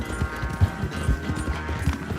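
Horse hooves gallop in a rapid, steady clip-clop rhythm in Red Dead Redemption 2, with Arthur riding his mare Carrot. The thuds are moderately loud over a continuous game background.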